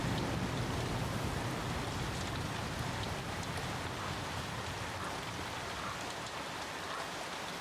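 Rain falling in the survival video game The Flame in the Flood, a dense, steady hiss of raindrops on surfaces, continuous and fairly loud throughout with no talking.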